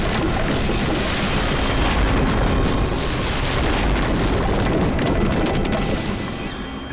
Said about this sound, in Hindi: और ये हुआ धमाका।